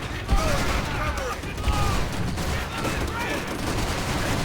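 Bursts of rapid gunfire ring out in the video game Call of Duty: World at War, repeated shots and fusillades close and fairly loud over a busy battle background, with a voice speaking in between.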